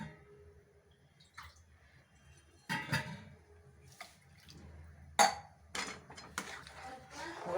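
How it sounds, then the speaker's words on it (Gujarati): Water poured into a pot of ragda while cooking: brief splashing pours and clinks of a utensil against the pot, separated by quiet gaps, close and fairly soft. "એટલે હું થોડું પાણી એડ કરીશ"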